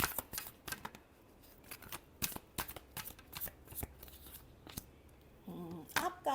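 Tarot cards riffled and shuffled by hand in a rapid run of crisp, papery flicks and slaps, close and fairly quiet, with a brief burst of handling noise near the end.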